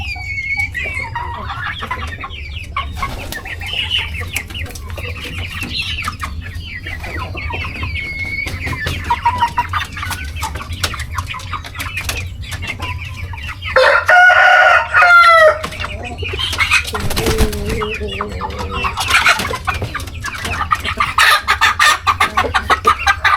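Three-month-old young chickens clucking steadily in a coop, with a rooster crowing loudly and close partway through among the ongoing farmyard fowl noise.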